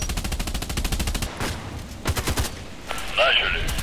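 Rapid automatic fire from an AEK-971 rifle in the shooter game Contract Wars rattles out in a fast burst, then breaks into a few shorter bursts, loud and close, with game effects at the end.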